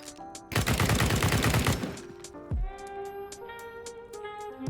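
Gunfire in Counter-Strike on the Inferno map, a rapid burst of automatic shots shooting through a wall by a ladder, loud and close, followed by a few scattered single shots and clinks.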